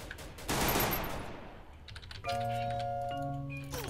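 Rapid bursts of gunfire in the video game Free Fire, a loud dense volley early on, then quieter shots under tonal game chimes and interface sounds, no talk.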